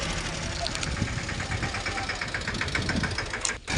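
A small Yuvraj tractor engine runs steadily while making ridges in a coriander field, a continuous close mid-pitched rumble with a faint knocking rhythm and a brief dip near the end.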